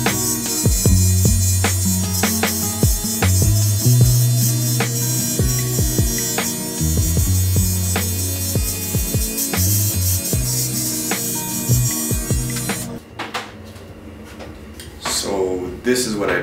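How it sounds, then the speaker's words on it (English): Electric hair clipper shaving a bald head: a loud, close buzzing motor hum with rhythmic strokes that waver in pitch, running steadily before stopping near the end, with someone talking over it. "I shave downwards. I shave with the grain and across the grain."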